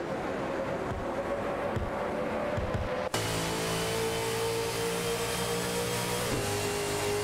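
Race car engines in an AI-driven racing video game with Nissan Altima, Holden Commodore VF and Ford Mustang touring cars, a steady layered drone of several engines holding revs through corners, with a brief sharp click midway and no talk.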